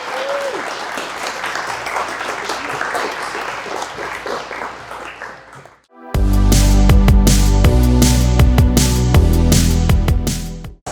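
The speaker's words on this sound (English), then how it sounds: "Let's give our speaker another round of applause." An audience applauds a speaker at an astrodynamics talk night, with steady, dense clapping for about six seconds before loud music abruptly cuts in and carries on to the end.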